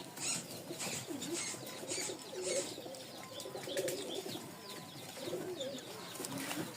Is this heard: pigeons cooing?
yes